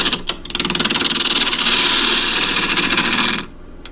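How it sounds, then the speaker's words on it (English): Wood lathe turning a natural edge bowl as a half-inch spindle gouge cuts the spinning wood, a loud close rhythmic chattering rasp that builds to a steady roar before stopping abruptly. "I'm going to do this as usual with a 1/2 inch spindle gouge."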